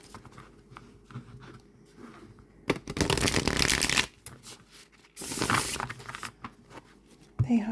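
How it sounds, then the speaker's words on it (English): A deck of Anima Mundi tarot cards is shuffled by hand in two brisk, close, papery bursts separated by a quiet pause, with faint handling rustles in between. "They have such a nice shuffle."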